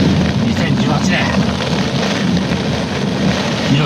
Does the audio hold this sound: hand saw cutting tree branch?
no